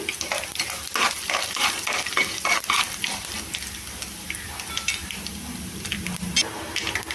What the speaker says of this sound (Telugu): ఇవి కొద్దిగా చిటపటలాడాక ఉల్లిపాయ ముక్కలు వేసుకోవాలండి